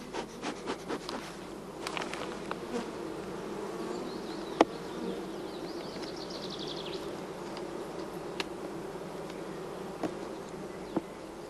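A honeybee colony buzzes steadily inside its hive during queen rearing, a soft continuous hum with a few brief clicks and knocks.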